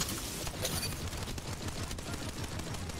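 Dense, continuous bursts of rapid gunfire with crackling impacts from the video game Apex Legends, loud and close, filling the whole stretch without any talking.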